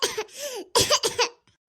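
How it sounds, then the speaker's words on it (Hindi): Two bursts of loud, close coughing, a hoarse cough and then a quick double cough, with a brief pause between. "अरे तोहरे तने जोर खांसी आवत है"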